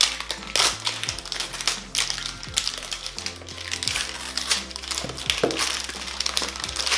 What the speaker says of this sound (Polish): tutaj taki paseczek, żeby zdjąć tą folię